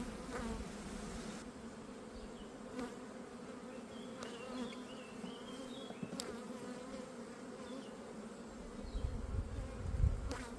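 Honey bees buzzing around a weak overwintering hive, a steady close hum of many insects with individual bees droning past, a louder rumble near the end, no talking.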